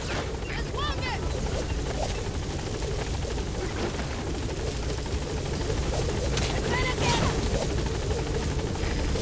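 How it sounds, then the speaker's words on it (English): A helicopter in the video game Metal Gear Solid V: The Phantom Pain hovers nearby with a constant loud rotor thrum, while radio voices talk over it. "Put the target on the chopper."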